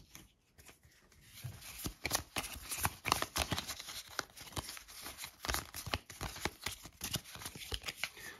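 Cards are shuffled, handled and drawn during a Shadows of Brimstone board game session: a dense run of crisp, close papery flicks and riffles that continues for several seconds, with occasional faint voices in the background.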